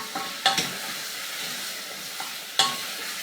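Chicken pieces sprinkled with salt cook in a pan, a quiet steady sizzle broken by a few sharp scrapes and clinks as they are stirred around, close by.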